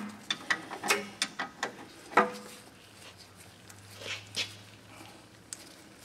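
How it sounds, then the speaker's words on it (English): Wrench ratcheting on a rear brake caliper slide bolt of a 2016 Chevy Express van in a shop, a series of close clicks and metallic taps that thin out to faint sparse ticks. "I do have a handy dandy wrench here."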